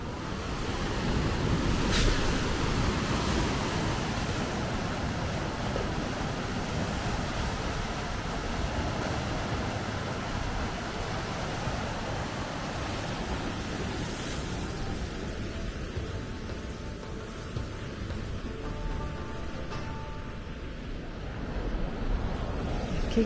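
Sea waves on the Cantabrian coast roll in with a steady broadband surf roar, heavy wind buffeting the microphone throughout, no voices.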